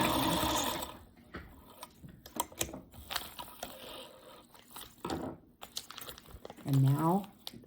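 A sewing machine stitches a paper foundation sheet with a quarter-inch foot, giving short bursts of rapid mechanical whirring and clicking with paper crinkling and pauses, and a brief voice-like sound near the end.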